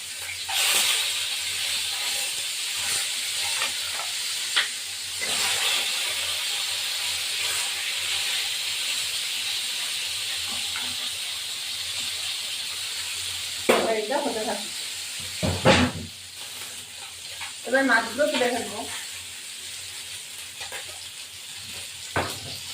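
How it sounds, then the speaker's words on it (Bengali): Fish frying in a pan of hot oil, a continuous hissing sizzle heard close up, with occasional clatters and short bursts of other noise partway through. "এবার এবার আমি মাছটা ভাজবো"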